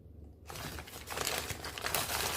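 Old newspaper used as wrapping is crumpled and crinkled by hand up close, a dense, rustling crackle that starts abruptly after a brief quiet and continues loudly without talk.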